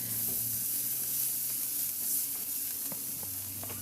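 Garlic sautéing in reduced oil in a pan, a steady close sizzle with faint stirring clicks and scrapes, no voices.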